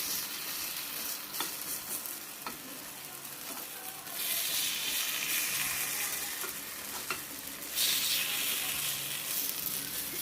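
Kuzhi paniyaram batter sizzles steadily in a hot pan as the pieces are turned with a spoon, a continuous close frying hiss broken by light scraping clicks, with no voices.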